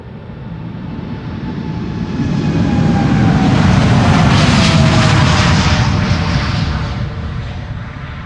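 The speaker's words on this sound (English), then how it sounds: "this is KLM Flight 741 to Bogota, 7879 Dreamliner, PHBHA" A KLM Boeing 787 Dreamliner takes off at Schiphol, a broad jet roar swelling over a few seconds to a loud peak and then slowly easing as it passes, with no voices.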